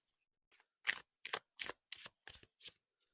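Quick crisp riffles of tarot cards being shuffled, six or seven short bursts in a row, close and fairly soft, with no talking.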